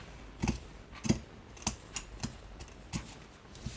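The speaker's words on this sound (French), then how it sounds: "avec mes petits ciseaux, je vais essayer de faire les angles" Small scissors snip through fabric for a tissue box cover, about nine crisp, separate cuts spaced unevenly and heard up close in a quiet room.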